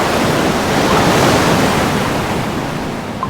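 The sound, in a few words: ocean waves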